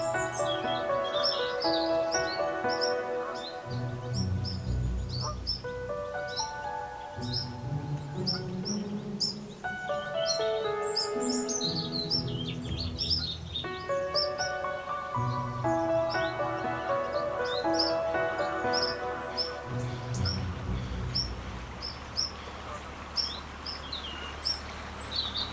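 Songbirds chirp and warble steadily beside the River Stort near lily pads and passing canal boats, with layered calls and a soft low rumble underneath.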